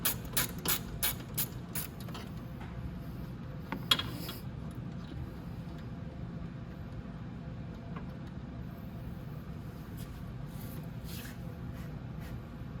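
A ratchet clicks in quick bursts near the start, loosening the bottom radiator bolts on a Venom x22GT 250cc automatic motorcycle, followed by quieter handling noises.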